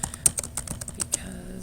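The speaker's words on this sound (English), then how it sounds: "So if I just type something" Someone types on a computer keyboard while editing a web page. About a dozen quick, close key clicks land in an uneven burst, then fade to quiet near the end.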